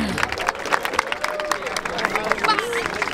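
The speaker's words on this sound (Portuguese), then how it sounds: "Palmas pra essa batalha!" Live crowd applause at a rap battle, a semifinal of a June-festival edition in Barueri, with steady clapping and scattered cheers spread across the audience, loud and continuous throughout.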